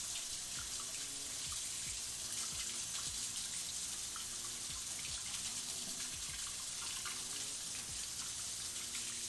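Basil sprigs are rinsed under a running kitchen tap, a steady faint stream of water splashing into the sink throughout, with no talking.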